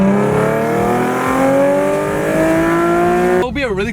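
A Nissan 370Z and a 2019 Subaru WRX STI accelerate hard in a race, engines climbing steadily in pitch through the gears, loud and close, ending with a brief burst of wind or handling noise.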